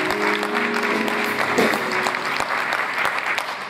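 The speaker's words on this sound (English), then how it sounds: "Come on and clap your hands and just give God some praise" A church congregation claps hands in praise during a service at Abundant Faith Cathedral, loud and sustained dense clapping, with a sustained musical tone briefly audible beneath it.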